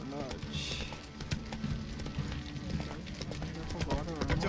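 Horse hooves clip-clop at a steady walking rhythm in a video game, close and continuous, mixed with game music and ambience while a person talks over them.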